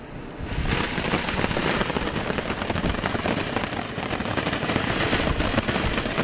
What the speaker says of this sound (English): Lighting the first firework of the evening